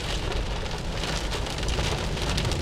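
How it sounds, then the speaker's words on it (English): A heavy monsoon downpour with thunder pounds a street in Las Vegas, a dense, loud, continuous roar of rain hammering surfaces up close, with no voices. "The storm's probably intensifying."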